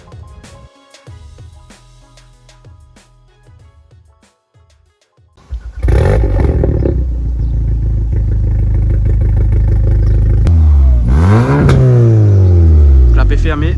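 An Audi S3 tuned to stage 3, over 500 horsepower, sits quietly with some faint clatter before the engine fires with a loud burst, idles with a rough rumble, then revs sharply up and down close by.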